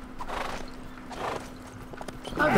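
Horse hooves in Lego Lord of the Rings, a few soft clopping steps in an uneven gait over a low steady hum, with a brighter clatter swelling at the very end.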